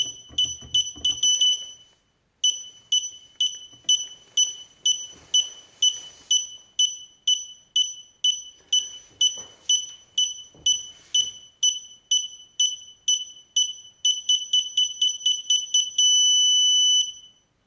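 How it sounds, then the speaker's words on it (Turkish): Burglar alarm beeping in rapid, regular pulses of a shrill two-tone pitch, pausing briefly early on and ending in one sustained tone; faint handling noises underneath. "Tekrar kuralım alarmı."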